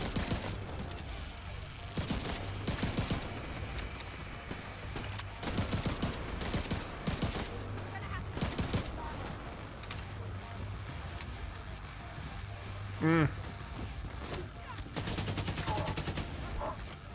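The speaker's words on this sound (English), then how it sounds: "Gosh, this gun kicks so much." Heavy-kicking gunfire in The Division 2, repeated bursts of shots under steady game ambience, with someone talking between volleys.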